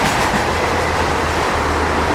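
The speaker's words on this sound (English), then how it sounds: "A fast freight train here." A fast CSX freight train roars past at close range in Germantown, well above the 55 mph track speed, as a dense, unbroken wash of rumbling wheels and rail noise.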